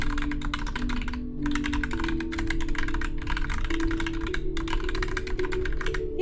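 Computer keyboard typing while playing the word-building game Typing Architect, rapid close clicking in four bursts separated by short pauses, over a soft game music drone and without talk.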